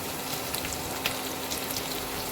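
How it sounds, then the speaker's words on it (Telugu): Vegetables sizzle in hot oil with ginger-garlic paste while cooking vegetable rice, giving a steady hiss with scattered small pops and crackles, moderately quiet and continuous with no voices. "వెజిటేబుల్స్ వేసేస్తున్నాను."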